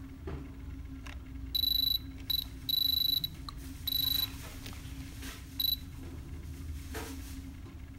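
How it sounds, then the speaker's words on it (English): A diamond tester gives short, shrill electronic buzzes in four or five brief bursts each time its tip touches metal. The buzzes are close and cut through a low background hum, with no talking. "When you hear the brrr, that means it's touching the metal."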